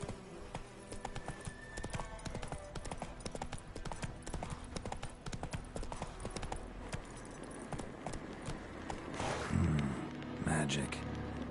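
Roach, a horse in The Witcher, gallops with a steady, loud clip-clop of hooves that runs throughout, set against game ambience, with a brief swell of other sound near the end.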